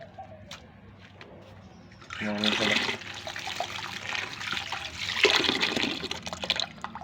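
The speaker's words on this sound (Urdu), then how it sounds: "پانی تھوڑا سا اور ڈال دینا" Water poured into a bird breeding box onto nesting material, a broad splashing wash that starts abruptly and continues steadily, fairly close, with faint talk before the pour.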